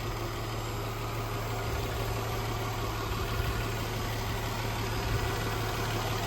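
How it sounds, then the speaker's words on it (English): Nissan Maxima SL sedan's V6 engine idling smoothly with a steady low hum and constant vibration, close and continuous with no talking. "So the engine is quite smooth overall."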